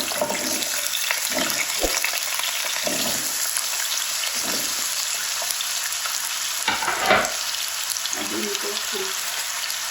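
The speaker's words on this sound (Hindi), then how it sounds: "फ्राई करेंगे 2-3 मिनट" Cubed potatoes fry in hot oil with ajwain and kalonji, giving a steady, close sizzle that runs throughout, with a few brief stirring scrapes and no talking.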